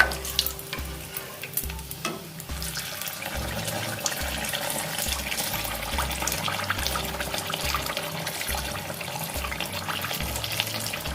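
Malpua batter fries in hot oil in a pan over medium heat, a steady close sizzle and bubbling hiss with a low rhythmic pulsing underneath, continuous and moderately loud.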